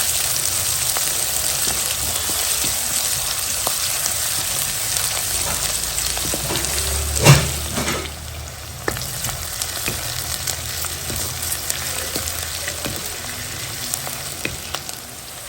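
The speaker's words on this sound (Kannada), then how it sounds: "ಕರಿಬೇವು, ಈರುಳ್ಳಿ, ಸ್ವಲ್ಪ ಕಲರ್ ಚೇಂಜ್ ಆಗೋವರೆಗೆ ಇದನ್ನ ಹುರ್ಕೋಬೇಕು ಎಣ್ಣೆಯಲ್ಲಿ." Curry leaves and onion frying in hot oil, a steady dense sizzle with occasional stirring clatter and one louder scrape midway, continuous and close.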